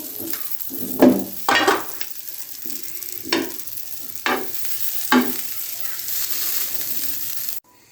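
Sandwiches roast in butter in a pan for an egg, vegetable and fruit sandwich, a steady close sizzle broken by several sharp scraping, stirring bursts spaced a second or so apart, with no talking.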